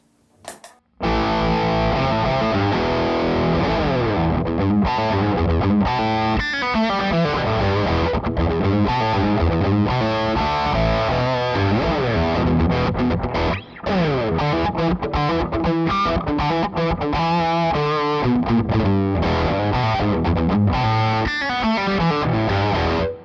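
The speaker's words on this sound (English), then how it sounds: "I'm going to change it to the overdrive channel. I'm going to play in the bridge position for this." Overdriven electric guitar on the bridge pickup through a Devilcat tube amplifier's overdrive channel plays continuously, loud and gritty with sustained distorted notes and quick runs, after a brief click at the start.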